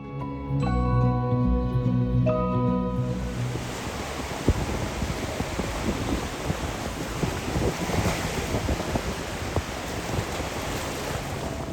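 A few soft tones at the start give way to steady wind buffeting and the rushing wash of sea waves, loud and continuous.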